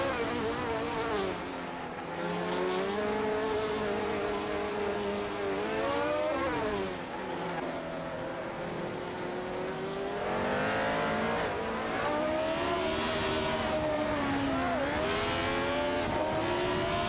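Race cars in a racing video game roar continuously through the stretch, engines rising and falling in pitch as they shift and overtake one another, with tires squealing briefly; loud and steady, no talk.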